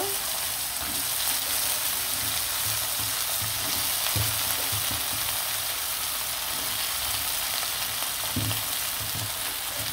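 Onions and flat beans frying in a pan, a dense continuous sizzle close by with occasional soft scrapes of stirring underneath.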